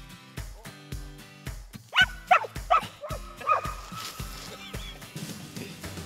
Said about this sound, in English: When the puppy barks, is it just a bark?